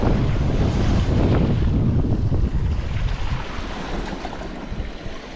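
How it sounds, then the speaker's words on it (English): Waves washing onto a beach with steady wind buffeting the microphone, a continuous loud surf roar that eases slightly toward the end, no voices. "It is a beautiful beach."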